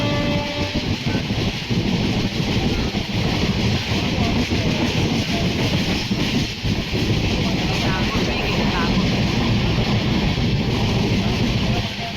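Inside a crowded Mandavi Express passenger train, a continuous loud rumble and rattle of the carriage on the rails fills the space, steady throughout, with indistinct voices of passengers mixed into the noise.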